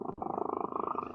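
A house cat purrs close up, a steady rhythmic rumble of quick pulses running continuously with a brief break near the start, no talk over it.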